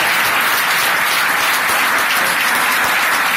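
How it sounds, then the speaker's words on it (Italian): Sustained applause from an audience in a warm meeting room in the province of Ragusa, a dense steady patter of many hands clapping close by with no voices over it. "Quindi un applauso."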